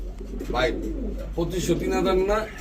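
A Cream-bar Mukhi pigeon pair, with the hen sitting on eggs, gives close, loud cooing in two rolling phrases, heard alone with no talk over it.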